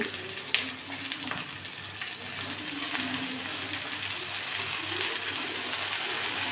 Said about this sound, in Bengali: এবার আমি এই যে পাঁচমিশালি শাকটা ধুয়ে কুচে রাখা শাকগুলো দিয়ে দিচ্ছি।